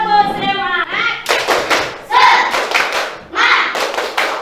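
A standing group of schoolchildren does a rhythmic clapping icebreaker in a classroom, sharp bursts of hand claps in patterned groups following a voice calling out at the start, loud and close.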